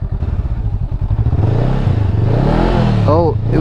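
A dirt bike engine sputters into life with rapid close-up firing pulses, then revs up and down in a rough, wavering drone. A voice briefly cuts in near the end.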